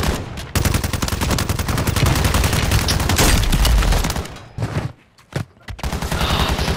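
Rapid Call of Duty gunfire, loud near automatic bursts in fast regular rhythm, briefly pausing with a few isolated shots before the firing resumes.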